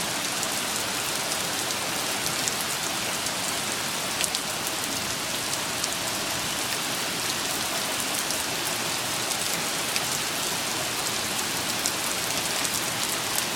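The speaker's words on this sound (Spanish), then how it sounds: "Lo que no me imaginaba es que lloviera tan fuerte." Heavy rain from a thunderstorm pours down steadily, a dense, even hiss of drops drumming on surfaces with no pauses or voices, continuous throughout.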